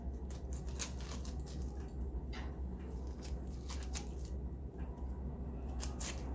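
A knife slices through crisp raw cabbage while preparing a fried salmon, cabbage and butternut squash meal, making a steady stream of close, crunchy snapping and shearing cuts over a constant kitchen background hum.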